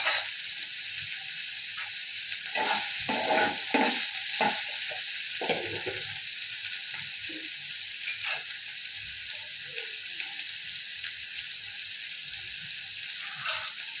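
Dried red chillies sauté in a pan with a steady sizzle, broken by a few spatula scrapes and stirs in the first half, then a quieter continuous fry.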